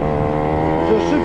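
Italjet 180 cc scooter engine revving steadily at close range, a continuous buzzing drone that swells slightly near the end.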